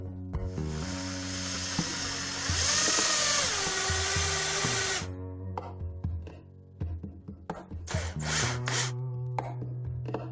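A power screwdriver drives screws through a metal bracket into a wooden baseboard, with a sustained whirring burst of a few seconds followed by scattered clicks, taps and a shorter buzz up close.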